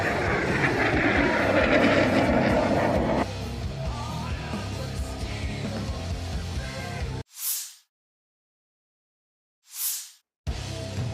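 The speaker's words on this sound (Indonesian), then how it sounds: "Беспилотник." Military drone in flight during war footage, a steady droning engine roar that holds loud for several seconds, eases slightly, then cuts to silence broken by brief bursts.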